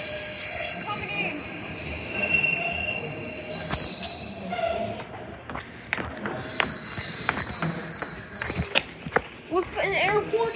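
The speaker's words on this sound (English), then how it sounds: "521 coming in." A SEPTA commuter train pulls into Fern Rock station with loud, sustained high wheel squeal over rumbling rail noise and clanks, with footsteps and voices around the platform.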